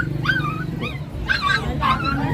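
Labrador puppies whimper and yip in a string of high, rising cries, close and fairly loud, with a murmur of voices in the background.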